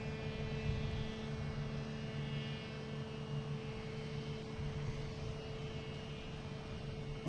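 An Emirates Airbus A380 passes very high over Boston Logan, a distant, steady jet drone with a faint humming tone running evenly throughout, heard alone without voices.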